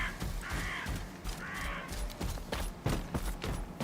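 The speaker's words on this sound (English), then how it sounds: "I'm not liking all the dead bodies and all the crows that I'm finding here" Crows cawing in STALKER 2: two distinct harsh caws stand out over a dense, rumbling ambient background, with scattered clicks and thuds, no talk.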